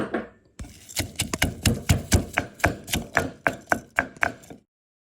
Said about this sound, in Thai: เดี๋ยวเราจะไปลงมือตำสามเกลือก่อนนะคะ